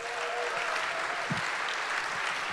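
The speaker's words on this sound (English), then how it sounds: "can we give a big round of applause for this team that does this whole program?" A startup program awards announcement draws sustained audience applause, a dense, even wash of many hands clapping throughout with no break and no talk over it.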